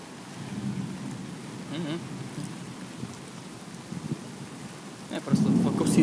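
A night thunderstorm with steady rain on surfaces and low rumbling thunder, with a louder rumble near the end, heard from a distance against a constant wet background.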